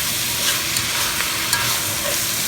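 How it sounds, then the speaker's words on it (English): Cajun chicken stir fried in butter in a pan sizzles steadily and loudly, with occasional scrapes and stirring clicks throughout and no talking. "Keep stir frying it until I see some like golden colors on it."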